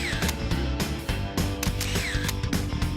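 A compact digital camera's shutter held down for continuous shooting at a busy evening celebrity photo call, giving a rapid, steady run of close mechanical clicks and whirs with no talking.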